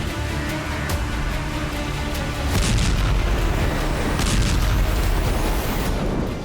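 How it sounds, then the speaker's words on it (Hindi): Israeli aircraft bombing Lebanon's Bekaa Valley: a dense, sustained rumble of distant explosions and roaring blasts, swelling louder midway and continuing without pause, with no voices. "इजरायली सेना के विमान उत्तरी लेबनान के बेका वैली में बमबारी कर रहे हैं।"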